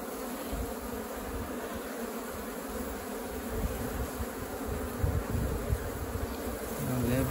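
Apis honey bees swarming around a termite mound in an open pasture during a capture, a dense continuous buzz that swells louder toward the end, heard alone without voices.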